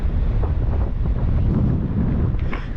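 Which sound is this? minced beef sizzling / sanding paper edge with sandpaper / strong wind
strong wind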